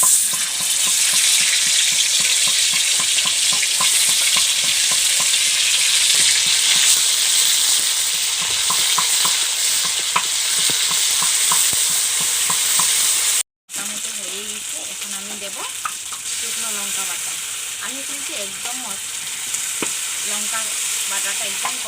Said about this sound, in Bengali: এখন এটাকে ভালোভাবে ভেজে নেবো যাতে কাঁচা গন্ধটা চলে যায়।